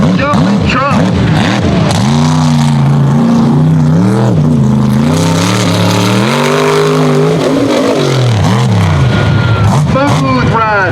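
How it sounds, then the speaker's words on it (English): Unlimited-class mega truck built from a dump truck, racing at a mud truck event, its engine roaring loudly and revving continuously with rising and falling pitch, close and steady throughout, while a commentator talks over it. "This is a dump truck."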